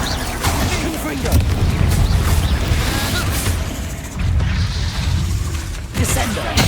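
A Confringo fire blast spell exploding in the video game Hogwarts Legacy: dense, roaring booms and crackling bursts that run continuously and loudly throughout.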